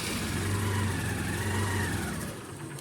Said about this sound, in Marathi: तू गाडी पुढे तरी घे